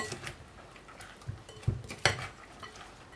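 Broccoli salad tossed with dressing in a bowl, with soft scraping and clinking of a utensil against the bowl, a few louder knocks in the middle, quiet and close, with no talking.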